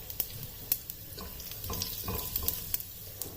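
Cumin seeds and a bay leaf sizzle in 50 to 60 ml of hot oil in a pan over a flame, a soft, steady crackle with a few sharp pops and light stirring clinks, quiet and close.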